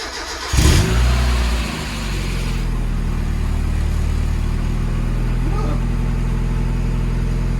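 A Mk1 Mazda MX-5 engine with an IL Motorsport cat-back exhaust cranks and catches around half a second in, then settles into a loud, deep, rumbling idle that holds steady to the end.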